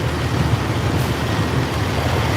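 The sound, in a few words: trucks running nearby at a convoy camp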